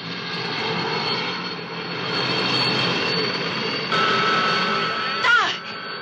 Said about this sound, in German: Der Hubschrauber.